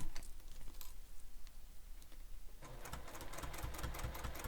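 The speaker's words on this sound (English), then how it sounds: "I'm just going to start stitching." A sewing machine stitches a messenger bag: quiet handling at first, then the needle starts a fast, even mechanical rattle, close and fairly soft.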